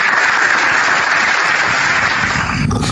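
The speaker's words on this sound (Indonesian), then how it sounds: "Tepuk tangan untuk Al-Quran." A seated crowd at an Indonesian religious lecture and debate breaks into sustained applause, a dense even wash of clapping that eases slightly near the end.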